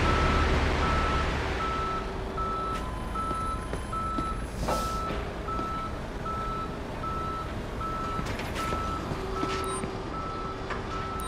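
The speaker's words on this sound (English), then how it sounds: "Can you send a wrecker to my current location?" Steady reversing beeps from a tow truck in the Police Simulator video game, repeating evenly over a continuous engine drone, with a brief air brake hiss partway through.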